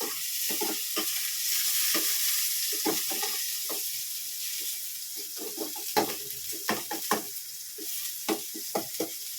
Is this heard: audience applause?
no